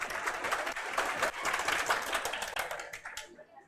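A group claps in a classroom, a dense burst of applause that goes on steadily and then thins out and stops near the end. A voice can be heard briefly within the clapping.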